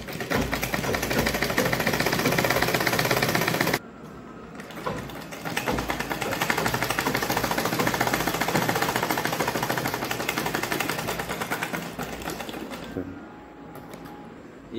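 A tailor's sewing machine stitches the seams of a six-panel cotton petticoat in rapid, continuous mechanical bursts, close and clear, pausing briefly before running on again, with no talk.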